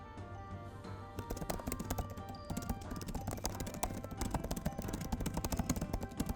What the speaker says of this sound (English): I don't know if you can hear me, so I'm just typing it too.